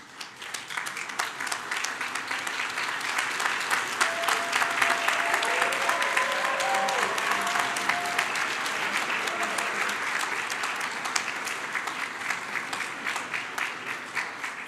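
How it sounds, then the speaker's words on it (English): A large graduation audience at a commencement ceremony gives a sustained, hearty round of applause, dense clapping that swells and holds throughout, with faint voices mixed in. "applause."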